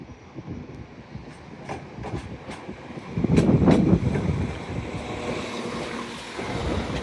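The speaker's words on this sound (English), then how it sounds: "Arriving in now on our platform is a Northern Class 195, working a service from Blackpool North" A Northern Class 195 diesel unit arriving at a York station platform, heard as a steady low rumble that swells and grows louder midway, with faint high squeals and rail noise and no talking.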